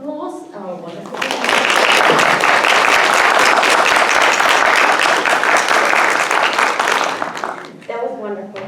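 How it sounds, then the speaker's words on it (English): Sustained, loud applause from an audience at an International Women's Day celebration, steady dense clapping for about six seconds before fading, with brief talk before and after. "I'm going to just maybe ask for a round of applause"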